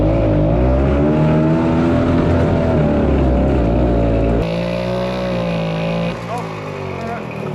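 A vintage 1965 Gnat Mk1 ATV engine drones loudly and steadily at close range while being ridden, its pitch dipping and rising as it changes speed.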